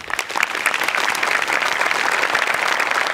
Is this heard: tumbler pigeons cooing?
no